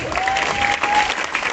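Concert audience applauding in tribute, dense clapping from a crowd with a faint whistle tone running through, loud and sustained over a short stretch.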